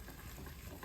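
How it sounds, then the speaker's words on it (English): Parmesan cheese is stirred into risotto, a very faint, steady soft sizzle and scraping stir under light outdoor wind noise, with no talking. "Let me stir in my cheese."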